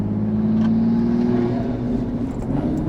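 A 2023 Toyota GR Supra A91 MT Edition with a manual gearbox and turbocharged engine drones steadily from inside the cabin, its tone rising slowly as it accelerates with turbo lag, loud and continuous with no talking.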